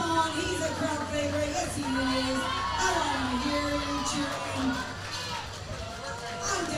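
Strongman event crowd cheering and shouting for Michael Covert, a sustained roar of voices with whoops, heard from within the audience under faint nearby talk.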